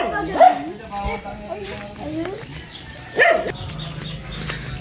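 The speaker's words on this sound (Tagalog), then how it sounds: "Daming aso." Several dogs bark outdoors at a flying site, with a few sharp barks and yips near the start and again a little past the middle, over a quiet background.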